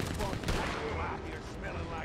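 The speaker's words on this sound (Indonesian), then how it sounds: "Kita tembak dulu deh, dari jauh deh." Gunfire in the Red Dead Online Blood Money mission at Covington on Ruthless difficulty, with a few sharp shots fired from a distance over a dense game background while people talk.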